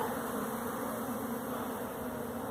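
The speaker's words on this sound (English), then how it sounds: "Well, they're totally swarming" A huge honeybee swarm fills the air with a dense, continuous buzzing drone, steady and moderately loud, with no talk.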